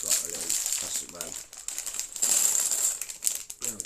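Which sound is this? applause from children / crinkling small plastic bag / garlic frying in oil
crinkling small plastic bag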